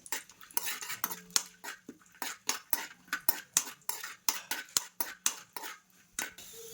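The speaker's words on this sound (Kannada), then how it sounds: "ನಾನು ಇಲ್ಲಿ ಬಾದಾಮಿ ಮತ್ತು ದ್ರಾಕ್ಷಿನ ಹಾಕ್ಕೊಂಡು ಫ್ರೈ ಮಾಡ್ಕೊತಾ ಇದ್ದೀನಿ" A spoon stirs almonds and raisins frying in oil in a pan, giving a quick, regular series of sharp metallic scrapes and taps against the pan over faint sizzling, with no speech.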